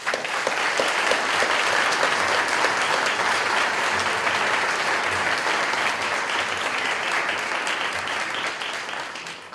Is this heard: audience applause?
yes